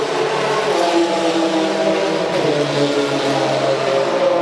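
Loud historic sports car racing engines at Sebring roar continuously, with a car revving and sweeping past nearby as the engine pitch shifts.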